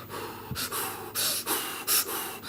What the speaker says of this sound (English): that's not how we do deep breathing